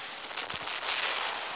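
In the mech game War Robots, the Dragoon weapon fires a quick burst of sharp, crackling blasts. They sound like loud firecrackers and are layered over a bright hiss of noise.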